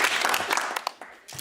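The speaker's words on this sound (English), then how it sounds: "Give yourselves a round of applause." A quiz show team and studio audience clapping after a match, a brief dense burst of applause that thins out into a few scattered claps.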